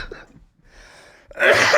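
A single harsh cough bursts out close by after a few quiet moments, loud and breathy.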